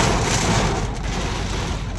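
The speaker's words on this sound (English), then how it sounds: "it is pouring." Heavy rain pours down onto a car, a dense, steady hiss of drumming water, loud and unbroken for the whole moment, with no voices.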